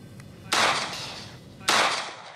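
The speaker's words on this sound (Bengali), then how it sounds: "মুহুমুহু গুলির শব্দ এটি কোনো যুদ্ধ বা সিনেমার দৃশ্য নয়" Gunfire during a raid on armed criminals in Maheshkhali, Cox's Bazar. Two loud, sharp reports about a second apart each ring out and decay into a faint background.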